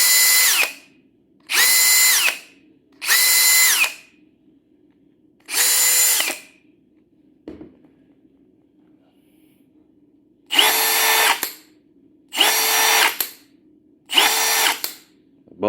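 Hart brushed cordless power drill revved to high speed in repeated short bursts, each ending in a quick electric brake stop, with quiet pauses between and a single knock in the middle; loud and close, no talk.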